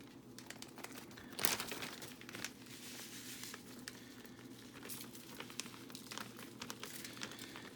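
A plastic bag holding raw pork ribs crinkles and rustles as it is handled in a kitchen, with close, soft, irregular crackles and one sharper crumple near the start.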